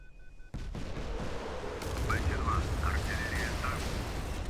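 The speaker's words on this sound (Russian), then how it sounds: "Артиллерия." Naval artillery booms from a warship in the mobile combat game Modern Warships, a heavy sustained roar of gunfire and blasts layered with battle noise and radio-style voice chatter.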